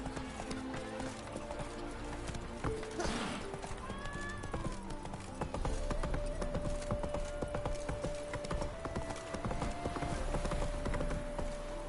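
Horse hooves clip-clop at a steady trot in The Witcher video game, with a whinny partway through and background music, ambience and occasional voices around the rhythmic footfalls.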